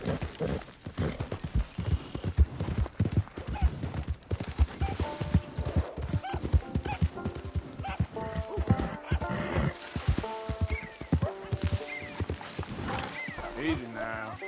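Horse hooves gallop in a steady, rapid clip-clop through Red Dead Redemption 2, with an occasional whinny, under game music and a rider's voice.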